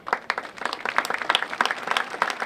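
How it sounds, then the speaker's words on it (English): Graduation audience applauding at a high school commencement ceremony, a dense, steady wash of many hands clapping at moderate loudness without a break. "we owe them a round of applause as well"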